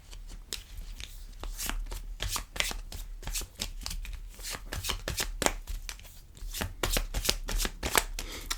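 Tarot cards handled and drawn by hand, giving a steady run of crisp, close card snaps and shuffling riffles, quiet and continuous with no talking.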